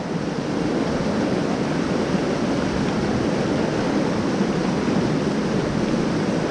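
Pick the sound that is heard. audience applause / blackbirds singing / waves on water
waves on water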